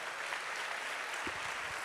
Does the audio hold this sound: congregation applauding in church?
yes